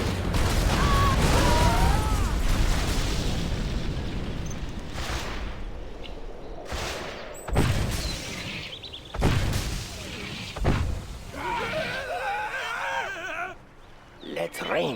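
Inferno cannon artillery fire in the Command & Conquer Generals strategy game, a series of heavy booms and bursts spread over several seconds with crackling fire between impacts, under game voices.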